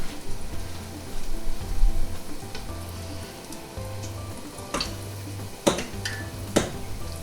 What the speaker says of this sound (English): So just batter a bunch of the rings, toss them in the oil.